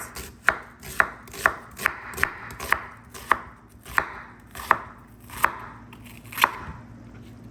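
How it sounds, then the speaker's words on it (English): A knife chops onions on a cutting board in a home kitchen, making crisp, evenly spaced knocks about twice a second that stay close and loud, with no talk. "Let's go ahead and start to chop the onions."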